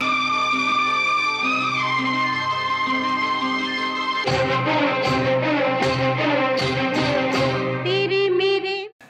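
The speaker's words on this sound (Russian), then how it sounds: "Это сэмпл из индийского фильма." A music sample taken from an Indian film plays alone and loud, with sustained melodic tones at first, then a denser, rhythmic passage with sharp accents before it cuts off abruptly.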